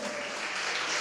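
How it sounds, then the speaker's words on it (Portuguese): A church congregation bursts into applause for the Lord, a dense, steady wash of clapping that fills the room, brief and loud with no voices standing out. "Você pode dar um aplauso para o Senhor?"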